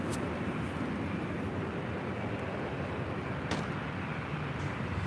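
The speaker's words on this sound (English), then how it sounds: "That is Delta Airlines flight 1194 heading to Salt Lake City in a 737 900 ER" A Delta Airlines Boeing 737-900ER jet airliner at LAX gives off a faint, steady distant roar as a broad continuous wash, with a couple of short sharp clicks and no talk.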